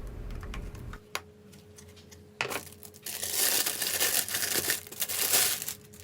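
Crinkly plastic rustling and crackling, close by, starting with a few sharp handling clicks and then building into a steady, loud crumpling.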